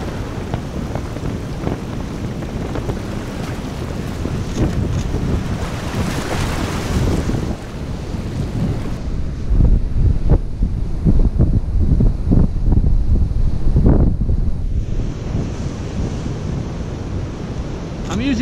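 Big ocean waves crash and roll in on a stormy seascape, loud and close, with heavy wind buffeting the microphone throughout in a continuous roaring wash with surging peaks.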